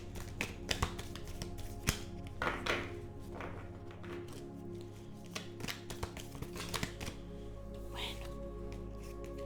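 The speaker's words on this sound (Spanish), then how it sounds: "vamos a barajar este maravilloso oráculo" A deck of oracle cards is shuffled in close-up, giving a run of soft taps, flicks and thunks at an uneven rhythm under a quiet steady background hum.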